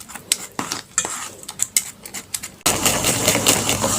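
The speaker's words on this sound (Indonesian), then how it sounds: "Kita bantu dengan sendok, ditekan-tekan seperti ini karena ini sifatnya keras ya." A spoon presses and stirs fermented cassava together with egg and sugar in a bowl. Close, irregular metallic scrapes and clinks are followed by a denser, steady mixing scrape, with no talking.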